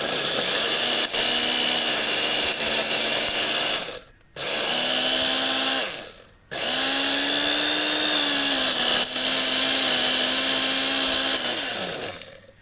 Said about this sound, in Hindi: तो यहाँ पर देखिए मैंने डाल लिया है, तो इसको मैं ग्राइंड कर लेती हूँ।